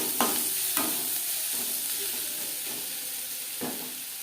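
Onions fry with turmeric and salt in a pan, giving a steady, moderately loud sizzle with a few soft stirring scrapes spread across it.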